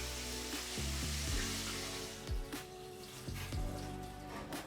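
Salt and pepper chicken wings fry in oil, giving a soft, steady sizzle with scattered pops and crackles, faint and alone.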